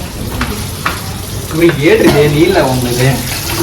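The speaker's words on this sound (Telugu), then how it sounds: "హ్యాండ్ వాష్ చేయడానికి వచ్చాము" Water runs steadily from a tap at a hand-washing basin in a large hotel, a continuous hiss that swells midway, while people talk over it.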